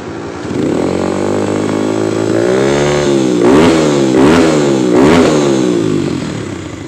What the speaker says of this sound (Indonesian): kita coba, kita geber-geber cuy, gimana rasanya suaranya